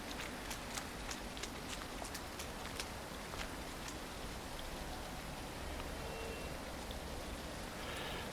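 Steady rain falling outdoors near a bus depot, a faint, even hiss of drops with scattered sharper drip ticks, distant and uninterrupted.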